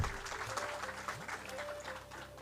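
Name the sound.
applause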